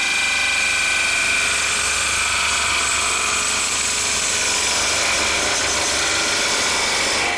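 Wood lathe turning an ogee bowl with heavy cuts, a steady whirring tool-on-wood hiss with bright high rasp holding evenly throughout, loud and close, no talking.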